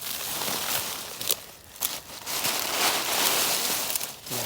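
Steady rainy-season rain falls in a constant close patter, with scattered crackling drops and louder splashes mixed through the hiss.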